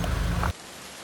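Heavy rain in Cambodia, a loud, close hiss of falling water that suddenly drops to a much softer patter halfway through.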